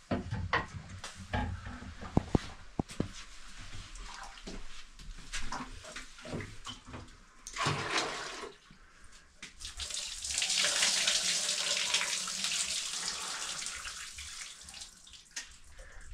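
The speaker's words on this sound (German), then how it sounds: "eine warme Dusche, ist das geil" Warm water from a shower runs in a steady hissing spray in a hot sauna-like room during a bicycle trip through Tajikistan's Bartang Valley, broken by clicks and splashes and swelling louder midway.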